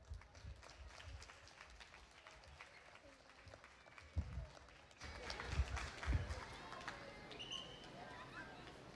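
Lecture audience applauding a speaker at an academic talk in Veracruz, the clapping swelling from a soft patter into fuller, steady applause that continues to the end.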